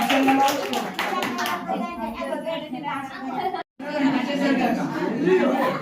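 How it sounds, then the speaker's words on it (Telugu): A crowd claps together at a village Christmas gathering, with the applause mixed into loud chatter and talking voices for the whole stretch. "అందరు చప్పట్లు కొట్టండి"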